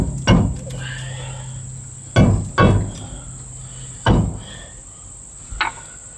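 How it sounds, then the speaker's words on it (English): A big hammer whacks a rusty brake drum on a 2002 Dodge Ram 2500 V-10 in four or five loud, sharp metallic blows spaced irregularly, with a steady high whine and faint hum between strikes. "I may actually use that bigger hammer and just whack it a few times and see if we can knock it off here"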